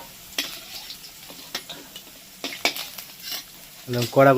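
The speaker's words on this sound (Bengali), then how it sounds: "আলুগুলো দেখো লাল করে ভেজে নিচ্ছি" Potatoes fry in hot oil in a pan, a steady close sizzle broken by several sharp scrapes and clinks of stirring, with a short burst of louder activity at the end.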